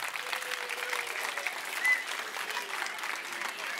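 Audience applause at a children's university lecture in Tilburg, a steady, even wash of clapping held at moderate level across the whole stretch, with a faint murmur of voices underneath.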